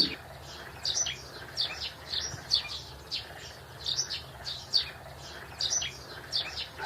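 Cartoon birds chirp repeatedly in short bright bursts, a steady rhythm of calls over a low background hum, fairly faint and distant.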